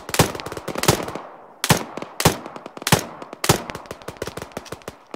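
Bursts of rapid automatic gunfire in an Arma 3 co-op combat scenario, loud cracking volleys in several clusters separated by brief pauses, with single shots mixed in.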